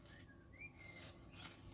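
A bird gives a thin, faint whistle, a couple of short rising and falling tones, heard distantly against steady low background noise.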